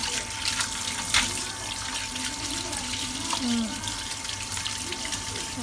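Tap water runs steadily into a kitchen sink while small cups are washed, a continuous splashing stream at close range with faint voices in the background.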